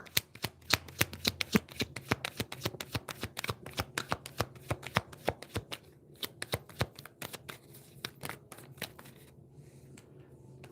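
A deck of tarot cards being shuffled by hand, with rapid, loud, close riffling clicks in dense bursts for several seconds that thin out and stop near the end.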